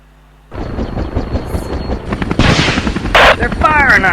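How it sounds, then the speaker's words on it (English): Video game gunfire on an airplane infiltration mission: rapid bursts and heavy blasts crackle loudly and continuously, mixed with game noise and voices talking over the shooting. "They're firing on us."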